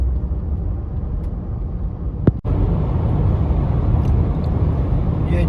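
A 2021 Subaru Forester 1.8 Turbo cruises at speed on a cold road, giving a steady broadband road and engine roar from inside the cabin, broken once by a brief sharp thump midway.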